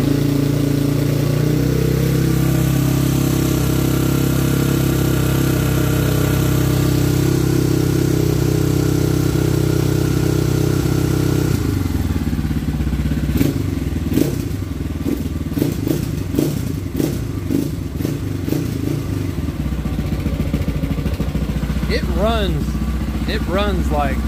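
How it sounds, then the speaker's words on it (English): A TM38 Chinese dirt bike engine is choked and started, a steady low idle drone first, then sharp revving bursts and clattering mechanical rhythm close by, with people talking over it. "Let's go ahead now and try to start this thing."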